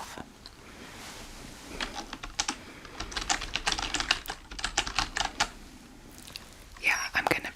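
Quick, irregular clacking of fingers on a computer keyboard in bursts of keystrokes, close and crisp, with a soft whispering voice faintly underneath.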